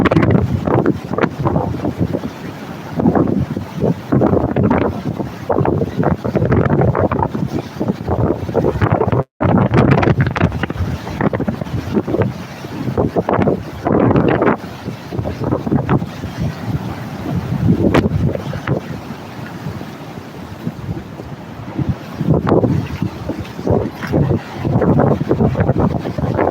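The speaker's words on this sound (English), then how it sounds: "The wind is picking up." Strong wind buffets the microphone at icy Niagara Falls in winter, a loud, continuous roaring rumble with gusty surges and a brief dropout partway through, with no voices.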